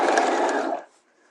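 A sewing machine stitches two layers of a bodice hem together edge to edge, a steady close whirring run that stops abruptly partway through, leaving near silence.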